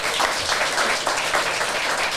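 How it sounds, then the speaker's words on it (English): A crowd applauds at a book launch event in Tulsa, steady dense clapping filling the room, loud and continuous throughout with no talk over it. "Let's give everyone a big round of applause."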